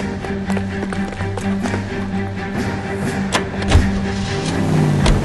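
Car being driven during a chase in the PC game L.A. Noire: a steady engine drone with road rumble throughout, a few sharp clicks and taps on top, rising slightly toward the end.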